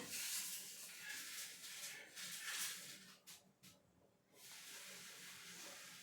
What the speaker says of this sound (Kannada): ಈ ಟೊಮೊಟೊ ಚೆನ್ನಾಗಿ ಫ್ರೈ ಆಗಿ ಸಾಫ್ಟ್ ಆಗಬೇಕು, ಅಲ್ಲಿವರೆಗೂ ನಾವು ಫ್ರೈ ಮಾಡ್ಕೊಳ್ಬೇಕು.